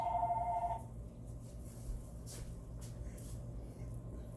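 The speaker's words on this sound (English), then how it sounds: "There's my phone." A telephone rings briefly at the start with a bright electronic trill that cuts off under a second in, leaving a low kitchen hum and faint background movement.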